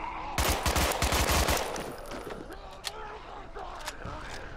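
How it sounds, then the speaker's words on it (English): An enemy in the zombie shooter Contagion unloads a long, rapid burst of gunfire, loud and close, followed by quieter scattered shots and ambient game noise. "he fires way too many bullets"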